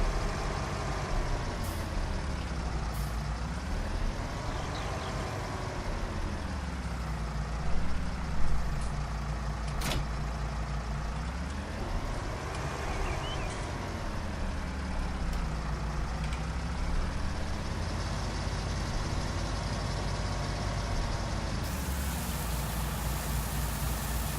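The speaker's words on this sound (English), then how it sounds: "we'll get in the New Holland here, T6. Grab this trailer and we'll unload our harvest" A New Holland T6 tractor engine in Farming Simulator 19 drones steadily and loudly throughout, its pitch rising and falling in slow swells as the revs change, with a couple of brief clunks partway through.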